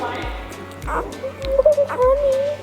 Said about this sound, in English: Oh, fresh puppies. Half hour old.